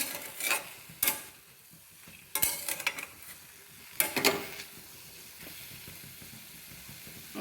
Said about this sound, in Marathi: कोथिंबीर परतून घेतली